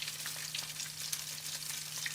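Pieces of meat fry in hot oil in a pan, turned with chopsticks, giving a close, steady crackling sizzle with scattered pops throughout and no voices.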